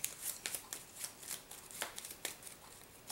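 A deck of playing cards being shuffled during a card game, a quiet run of soft riffling bursts close by with no talking.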